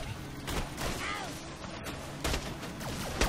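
Enemy gunfire in Borderlands The Pre-Sequel crackles in bursts of sharp shots and impacts over a noisy battle background, loud and close, with a couple of heavier hits toward the end.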